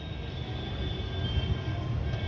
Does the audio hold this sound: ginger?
no